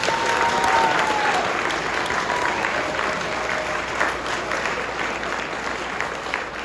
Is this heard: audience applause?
yes